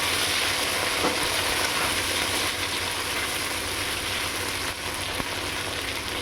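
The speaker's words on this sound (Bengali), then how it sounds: "গাঠি কচুগুলো একটু নাড়াচাড়া করে নেব, হালকা, বেশি না।" Boiled taro pieces fry loudly in a pan, a dense, continuous close sizzle with a couple of brief stirring scrapes and no voices.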